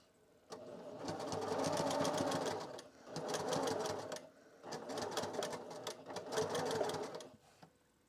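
A sewing machine stitches through thick fleece in three sustained runs of rapid mechanical whirring separated by short pauses, close and fairly quiet.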